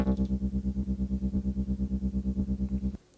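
A distorted, pulsing sample loop on a Polyend Tracker repeats in steady rhythmic throbs with a bouncing ping-pong delay, loud and continuous, then cuts off abruptly near the end.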